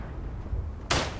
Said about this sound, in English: I'm gonna put some artillery there on the Germans bunching up against the trench.